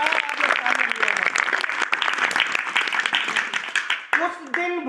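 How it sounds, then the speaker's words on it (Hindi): Audience applause at a religious discourse camp when Draupadi is named, a burst of crowd clapping, with a voice speaking through the end. "तालियां, द्रौपदी का नाम आया, आपने तालियां लिया।"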